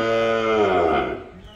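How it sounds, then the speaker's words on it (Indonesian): Cattle at a livestock sale pen, young stock for sale, give one sustained, loud moo with a rich harmonic bellow that sags and fades toward the end. "Seperti ini sapi-sapinya ya dulu."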